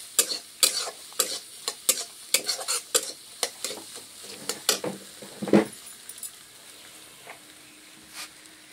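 Cracked eggs frying in a pan with leftover rice, a soft sizzle under a run of sharp spatula scrapes and clinks that taper off into quieter frying.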